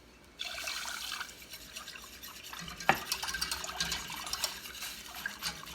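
A whisk stirs milk into a roux for béchamel in a pot, giving close, soft, continuous wet swishing and scraping with a few small clinks.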